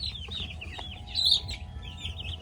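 Cornish cross meat chickens cluck and chatter softly in a coop, with overlapping short calls over a low, constant background hum.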